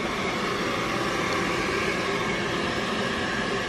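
A pet blower dries a dog, giving a steady, loud, even rush of air that runs unbroken from start to finish with no voices.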